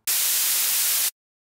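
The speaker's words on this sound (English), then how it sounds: "I'm going to use a white noise sample and raise the pitch and the volume at the same time." A white noise sample plays as a build-up, a bright, dense hiss that starts abruptly, holds steady for about a second, then cuts off into silence.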